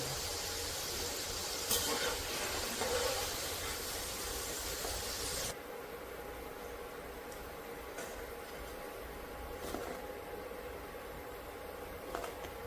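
Potato French fries fry in hot oil with a continuous soft hiss and gentle bubbling, fuller and louder at first and then dropping to a quieter, steadier sizzle.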